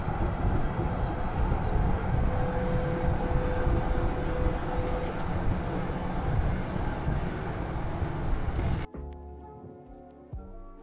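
A tram on Melbourne's 109 line near its Port Melbourne depot rumbles past in a broad, steady roar for about nine seconds, then cuts off abruptly, leaving quieter ambient street sound.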